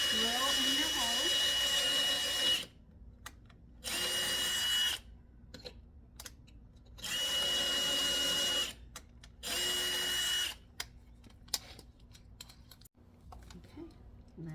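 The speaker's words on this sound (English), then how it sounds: "Drill in your hole." A power drill bores a hole through a door to fit a smart lock, running in four bursts of about two seconds each with short pauses between, loud and close, with quiet handling noise in the gaps.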